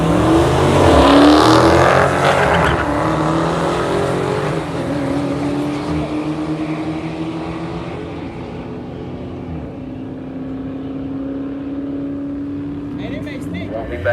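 Loud engine roar from a 2018 Dodge Charger Scat Pack against a Whipple-supercharged 5.7 at a quarter-mile drag strip, a strong launch burst fading into a long sustained high-revving drone with a brief rise at the end.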